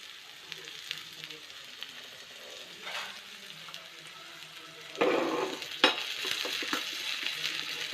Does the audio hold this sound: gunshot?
no